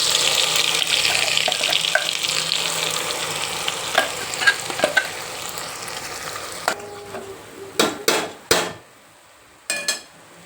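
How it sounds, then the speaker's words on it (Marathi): Spice masala frying in hot oil for a Kolhapuri misal, a steady dense sizzle that fades after several seconds into quieter stretches broken by sharp metal scrapes and clinks of stirring in the pan. "असं नॉर्मल झाल्यावरच याच्यात मसाला टाकून घ्यायचा"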